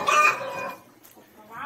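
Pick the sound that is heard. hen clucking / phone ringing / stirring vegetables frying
hen clucking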